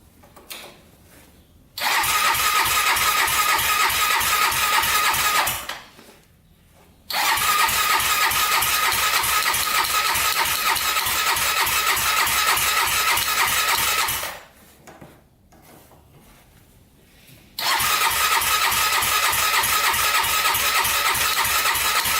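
A turbocharged Honda 400ex quad engine is cranked repeatedly without catching. Three long bursts of rapid starter churning are each separated by short quiet gaps. The cranking is close and loud.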